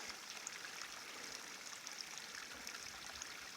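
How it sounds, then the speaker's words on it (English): Seasonal Shaw Creek near Harts Pass on the Pacific Crest Trail runs in a soft, constant trickle and burble, faint and steady throughout with no voices. "I'm at seasonal Shaw Creek, which is an important water source."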